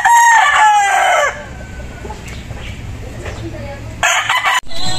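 Roosters kept in cages crow loudly and close by, a long crow opening the clip and another bursting in near the end, with clucking fowl and farmyard noise filling the gap between.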